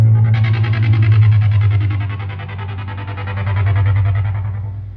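A synthesizer keyboard with its distortion circuit engaged holds a loud, bass-heavy sustained tone with buzzing, gritty overtones that swell, dip and swell again without any talk.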